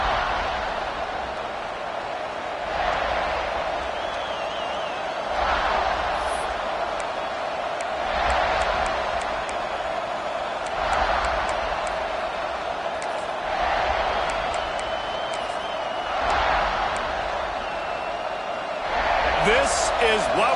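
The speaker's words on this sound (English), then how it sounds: "This crowd ready to make its presence known." A college football stadium crowd at a Gamecocks game keeps up a broad, sustained roar with periodic swells, heard at a distance under continuous commentary.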